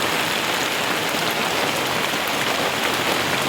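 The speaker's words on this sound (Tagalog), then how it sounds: "Grabe yung kusugang ulan." Heavy rain pours in a dense, steady roar of drops on surfaces, close and loud throughout with no pauses, and no talking.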